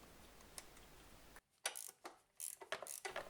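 Ratchet ring spanner turning a 10mm bolt head on a motorcycle side cover, heard as close, quick clicking pawl ticks in short bursts after a brief pause.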